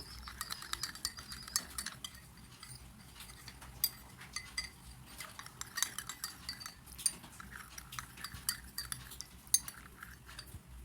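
Spoon stirring a warm mixture of water, sugar and half a teaspoon of yeast for pizza dough, giving repeated light metallic clinks and scrapes against the bowl in an irregular rhythm, close and fairly quiet.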